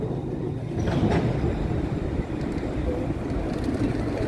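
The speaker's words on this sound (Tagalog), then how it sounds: "O, yan yung train." A train rumbles past in Dublin city, a steady close and loud roll with a low rumble and faint wheel clatter throughout.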